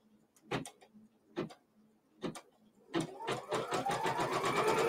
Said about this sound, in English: So it is just stitching out my main border.